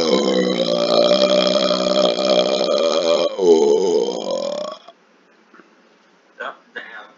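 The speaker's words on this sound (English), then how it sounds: "make myself burp." A long, loud, drawn-out burp from a man rumbles and croaks for several seconds before cutting off, followed by quiet with a couple of brief voice sounds.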